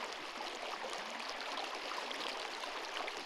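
A creek in Aravaipa Canyon bubbles along steadily, a soft, even wash of flowing water that stays at a constant level, heard alone without voices.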